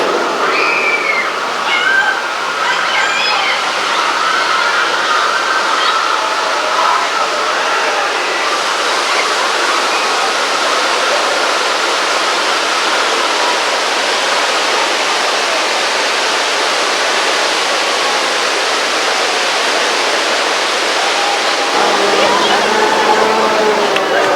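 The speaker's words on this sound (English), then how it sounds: "on my side, the water mains are broken up" Loud, steady rushing of water gushing from broken water mains on a studio tram tour set pours continuously, a broad dense roar with faint voices and squeaks over it, ending with a brief shift in tone.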